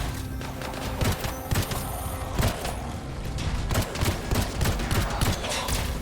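Pistol gunfire in the video game Anthem, a rapid series of sharp shots and impacts over a busy, dense game soundscape, fairly loud throughout.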